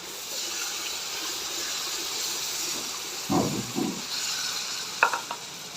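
Water poured into a pan of sooji halwa with sugar, giving a steady hiss and soft sizzle, then a few stirring scrapes and splashes near the end, close and quiet with no talk.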